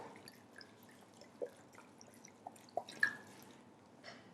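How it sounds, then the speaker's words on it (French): Red wine from Visan splashes and drips over pieces of beef cheek set out for a daube, a few soft, scattered liquid drops and trickles close by, quiet and brief. "il ne me reste plus qu'à arroser tout ça de bon vin rouge de Visan"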